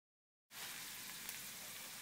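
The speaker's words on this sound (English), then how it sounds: "now that we have our shallots, garlic, and jalapeno cooked down to about a translucent state" Shallots, garlic and jalapeno sizzle steadily in a hot pan, a dense, even hiss that starts abruptly after a brief silence and holds at a constant level close by.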